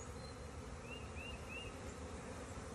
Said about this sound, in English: So we're about to catch this swarm and put it in a bee box.